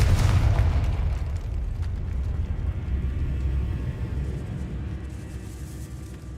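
A Confringo fire spell blasts in Hogwarts Legacy inside a decayed catacomb, a loud booming explosion at the start that rolls into a sustained low rumble and debris noise for several seconds, with no talk.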